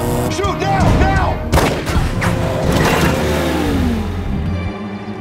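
Gunfire bursts and booms in an action film trailer, loud and layered with engine revving and dramatic score, dense throughout with a sharp impact near the midpoint.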